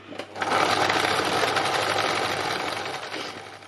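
Free machine embroidery on a sewing machine, with a dense, fast, steady stitching whir running close and loud for a few seconds after a brief start.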